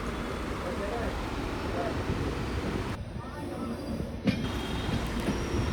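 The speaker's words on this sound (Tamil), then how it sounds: "நம்ம ட்ரெயின் யஷ்வந்த்பூர் கார்வார் எக்ஸ்பிரஸ் சக்லேஷ்பூர்லேருந்து கிளம்பிடுச்சுங்க" A low, continuous rumble of the Yesvantpur–Karwar Express leaving Sakleshpur, steady and moderately loud, with a brief clunk near the end and no talking.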